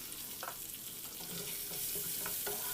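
Onions and asafoetida fry in hot tempering oil for a brinjal and moong dal dish, giving a steady, close, hissing sizzle with a few spatula scrapes and clicks.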